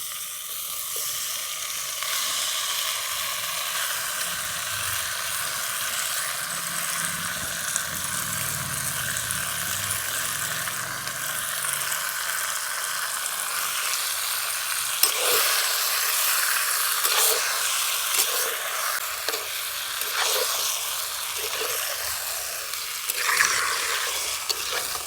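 Goat meat tipped into a pan of fried onions sizzles steadily with a bright, continuous hiss, stirred now and then, close and fairly loud with no talk.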